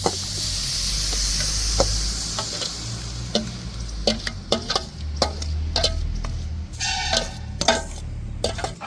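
Grated coconut and jaggery are stirred in a hot kadai for coconut laddu, with a steady close sizzle under irregular spatula scrapes and clicks against the pan.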